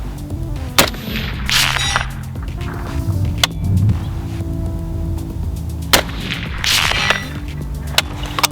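Rifle shots fired at a chest target 300 meters away through a Burris Fullfield E1 scope, three sharp cracks spaced well apart, each with a brief echoing tail, over steady outdoor wind and low rumble.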